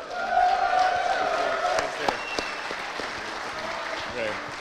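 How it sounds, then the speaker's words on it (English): Audience applause at the Dutch StarCraft League finals closing ceremony, a dense wash of clapping from a crowd that swells early, then thins and fades while a voice speaks over it. "Big round of applause, please,"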